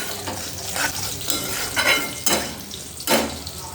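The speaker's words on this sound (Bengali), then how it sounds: "মশলাটা এবার কষতে থাকবো, গ্যাসটা জোরেই করে দিলাম" A tomato spice paste sizzles and fries in a pan over a high gas flame while a spoon stirs it, scraping the metal in a few distinct strokes over a constant crackle.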